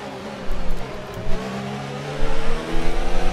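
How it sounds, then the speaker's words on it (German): A Formula 1 car engine revs and accelerates in the F1 2019 racing game, a loud continuous whine with rising harmonics and surging bursts of throttle, with no talking. "Schönes Formel 1 Fahrzeug."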